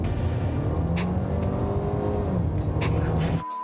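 A combustion engine car accelerates hard under full throttle, a loud sustained engine roar with rising tones that cuts off abruptly near the end.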